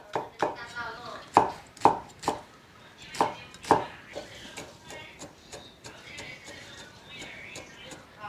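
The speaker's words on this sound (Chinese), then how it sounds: "先切一下之后剁碎。" Red and green chili peppers are chopped and minced with a knife on a cutting board: sharp, close knocks in uneven bursts, heavier at first and then quicker and lighter toward the end.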